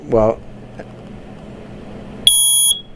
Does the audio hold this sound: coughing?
no